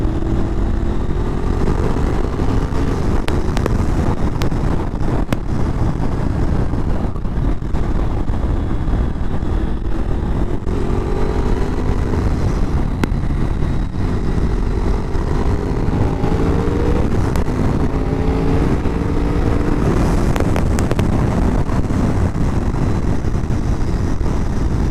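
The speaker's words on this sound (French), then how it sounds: "dès qu'on réaccélère un petit peu, qu'on passe les 4000, c'est un vrai plaisir ce moteur." A V4 motorcycle engine pulls hard past 4000 rpm, its pitch climbing in repeated rising sweeps under steady wind buffeting, loud and close throughout with no talking.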